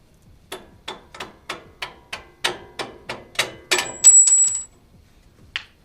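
Lower shock absorber bolt coming off a fifth-generation Toyota 4Runner during a lift kit install, a run of about a dozen sharp, evenly spaced metallic clicks, close and crisp, ending in a brief high whine and a final tick.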